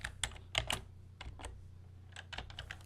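Computer keyboard keys are tapped in short scattered bursts, a few quick clicks then pauses, close and fairly quiet, with no one speaking.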